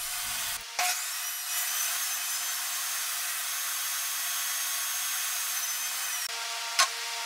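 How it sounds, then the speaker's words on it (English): A power saw runs steadily through wood, cutting strips for the frame dividers of a wooden 2x72 belt grinder, with a bright sustained whine after a brief start and a short knock near the end. "Cutting out some strips that will be used to make the dividers on the inside of the frame."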